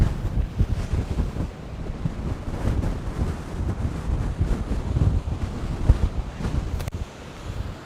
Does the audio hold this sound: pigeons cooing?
no